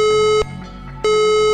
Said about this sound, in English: If the fire alarm sounds like this,